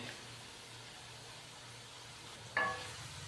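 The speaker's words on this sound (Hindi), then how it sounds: "मसाले की और चिकन की 5 से 6 मिनट के लिए अच्छी तरह भुनाई कर लेंगे" Chicken pieces roast with masala in a pan, giving a faint, steady sizzling hiss, with one sharp utensil knock against the pan near the end.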